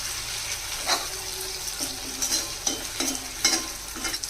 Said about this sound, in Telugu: మళ్ళీ టూ మినిట్స్ ఆగిన తర్వాత మళ్ళీ ఒకసారి తిప్పాలి